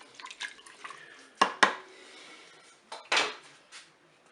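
Spoon stirring peeled tomatoes in a Cookeo multicooker pot, a few clinking scrapes against the metal with wet squelching in between, close and sparse, no talk.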